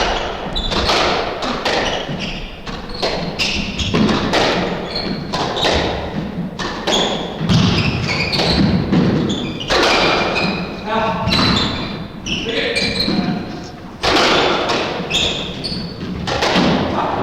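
Squash ball shots in a men's 30+ doubles rally at the 1998 world championships: sharp repeated thuds of ball off racquet and walls in quick irregular rhythm, with squeaking shoes and a commentator talking over the play.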